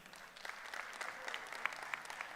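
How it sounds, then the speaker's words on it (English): Applause from a summit audience, a steady dense patter of many hands lasting a couple of seconds at moderate distance, with no talk over it. "Give yourselves a round of applause for being here."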